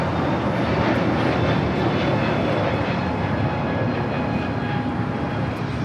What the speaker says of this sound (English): This is Spirit Airlines 154 taking off to Atlanta on the A321neo